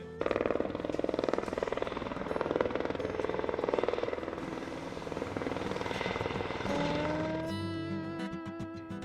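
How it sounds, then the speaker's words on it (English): A helicopter's rotor thumps in a steady rapid beat over a fish hatchery, fairly distant and continuous, with a higher engine whine emerging toward the end. "We bring the helicopters in"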